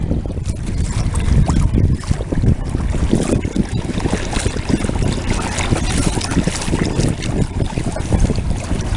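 Small pod motor on a 2.3 m Bay Sports kayak running at its second speed setting, a steady broadband churn of water and motor with gusty wind buffeting the microphone throughout.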